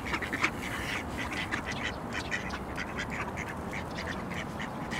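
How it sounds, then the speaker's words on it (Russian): Ducks on an island being fed porridge quack in a busy, continuous chorus of rapid calls over steady outdoor noise. "Покрякивают такие."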